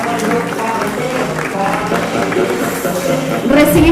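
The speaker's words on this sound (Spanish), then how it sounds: "Fuerte aplauso para Matusevich Geraldine" Applause for a contestant at a cultural ambassador election in Villa Angela, a steady wash of clapping from the audience that holds throughout and swells slightly near the end.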